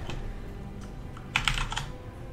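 A clicky computer keyboard is typed on during Skyrim play: scattered key clacks, then a quick burst of several sharp clicks, close and clear over a low background hum.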